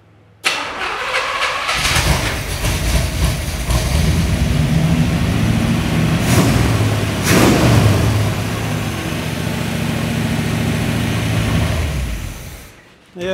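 A Ford Model T hot rod engine catches and runs loud and close, its rough mid-range roar swelling as the gas pedal is blipped, with a couple of sharper revving peaks before it cuts off near the end.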